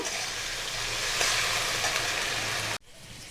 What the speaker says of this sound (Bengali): সমস্ত ফুলকপিগুলো দিয়ে দিয়েছি এবার ভেজে নেব